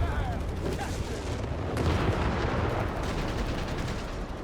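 Howitzer artillery fire in Company of Heroes 3, heard as a dense rumbling barrage of booms and crackling impacts that keeps going from start to end, with battle noise and faint voices mixed in.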